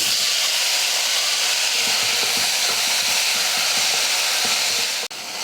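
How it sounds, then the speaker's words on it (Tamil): Onions sauté in hot oil with curry leaves, dried red chillies and asafoetida, and tomatoes are added later, in a pan that sizzles with a loud, steady hiss close up for several seconds before cutting off. "வெங்காயத்தை லைட்டாக வதக்கிடலாம்."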